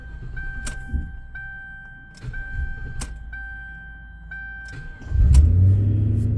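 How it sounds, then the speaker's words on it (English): A 2006 Lincoln Town Car being diagnosed for a misfire has its ignition turned on, with repeated chimes and clicks, then the engine cranks and starts with a close, rising low rumble at the end. "Okay, set the ignition switch to the off position. Okay, done. Now start it back up."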